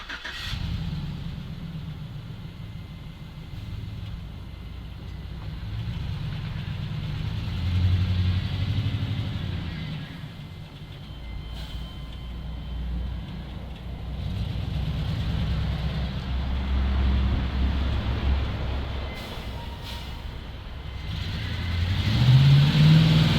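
A ZIL truck engine with an oil problem rumbles steadily at low pitch, idling with occasional surges as it revs, continuous and fairly close throughout.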